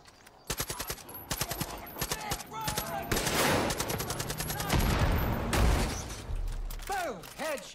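Heavy Far Cry 5 gunfire, with rapid automatic bursts and single loud shots overlapping for several seconds amid mechanical clatter and booms, while a voice speaks underneath.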